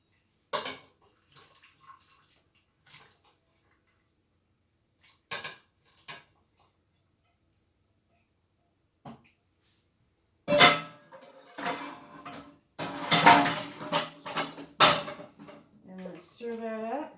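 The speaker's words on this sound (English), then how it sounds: "now we're going to dump our meat back in" Beef dumped back into an Instant Pot, sparse soft clicks and knocks, then a close cluster of clattering, plopping bursts of meat and metal, with a voice speaking around them.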